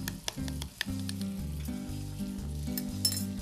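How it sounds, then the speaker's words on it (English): Bacon sizzles and crackles steadily in a frying pan, close and continuous, with a few light clinks of a utensil against the pan. "Let's have a look at our bacon, maybe give it a flip around here."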